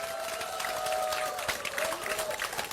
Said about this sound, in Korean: 여러분 박수 한번 심차게 보내주십시오.